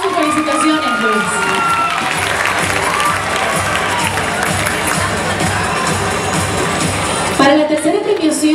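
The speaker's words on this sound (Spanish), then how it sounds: "Un fuerte aplauso y felicitaciones, Luis." A crowd cheers and applauds for Luis Varela after he receives a medal at the M&M Turismo Carabobo 2016 pageant award ceremony, a loud, steady roar of clapping and shouts that runs throughout before fading near the end.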